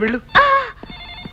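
A telephone bell rings in a scene from the Telugu film Alludugaru, a short burst of ringing tones sounding close and clear while a voice speaks over the start.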